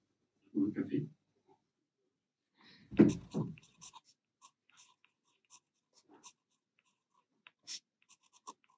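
Pen drawing the Inafleur Zentangle pattern on paper, a scatter of faint scratchy strokes and ticks after short bursts of speech and breathing.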